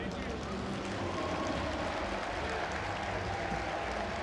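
Steady applause from a crowd at a StarCraft II tournament, IEM GamesCom, fills the whole stretch, a dense continuous wash of clapping at moderate level with no pauses.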